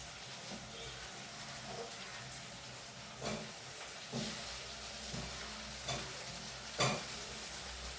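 Meat fries in a hot pan, holding a steady sizzle close by, with several louder stirring scrapes and clinks spaced through it and no talking.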